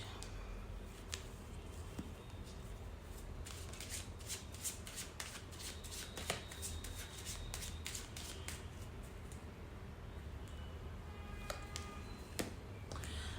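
Tarot cards being shuffled and pulled from the deck, a continuous close riffling and flicking with scattered sharp card snaps, soft and steady, with no talking.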